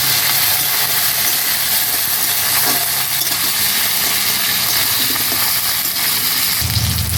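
Fish frying in hot oil alongside potatoes, a loud, continuous bright sizzle and hiss that holds steady throughout, with a low thump near the end.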